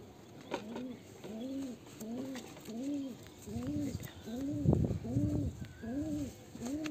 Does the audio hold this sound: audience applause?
no